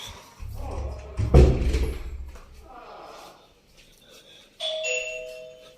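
A thud and some clatter, then an electronic doorbell chime rings out clearly near the end, with faint background noise.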